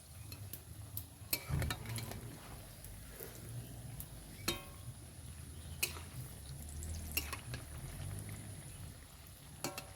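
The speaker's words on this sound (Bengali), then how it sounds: "এরকম করে লাল লাল করে আমি সব কটা ভেজে নেব" Palm-fruit sweets frying in hot oil, a low steady bubbling hiss running throughout with a few sharp clicks and taps of a utensil, no talking.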